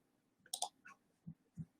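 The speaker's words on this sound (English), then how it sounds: "There's so much clicking" Computer mouse clicks at a desk, a pair of crisp ticks followed by a few softer taps, close but faint, with no talking.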